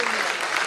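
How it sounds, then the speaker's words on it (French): A brief burst of dense crowd applause at an anniversary evening for a mixed doubles event, many hands clapping together in a loud, steady patter, with voices mixed in. "Je veux un tonnerre d'applaudissements"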